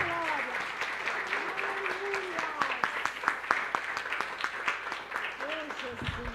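A church congregation claps steadily in a sustained round of applause, with a voice speaking over it and a low hum underneath.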